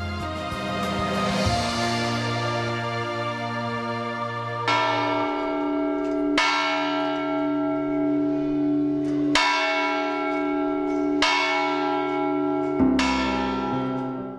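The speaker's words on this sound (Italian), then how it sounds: "Le campane sono un simbolo di Agnone, protagoniste dei tanti campanili che scandiscono il profilo dell'abitato." Church bells ring out in the hilltop town of Agnone, where many bell towers rise. Loud, resonant strikes sound roughly every one and a half seconds, each leaving a long humming decay that overlaps the next, with no voices.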